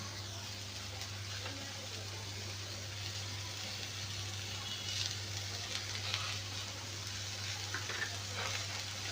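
Spring onion greens with chili powder sautéing in a pan, a soft continuous sizzle with occasional stirring scrapes, fairly quiet over a steady low hum, no talking.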